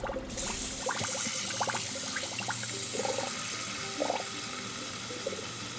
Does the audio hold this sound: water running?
yes